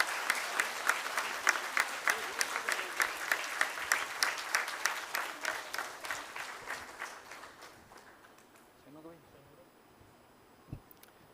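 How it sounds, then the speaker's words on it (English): Audience applause at a talk, dense rhythmic clapping that swells early then gradually thins and fades over several seconds, followed by quiet room tone and a brief voice. "I think we can give a huge round of applause for ensuring that."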